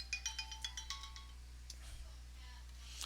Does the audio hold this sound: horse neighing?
no